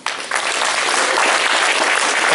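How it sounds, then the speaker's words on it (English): A large audience gives warm applause for a chef at a cooking presentation, dense steady clapping that starts abruptly and fills the clip alone at close range. "Give him a good warm applause."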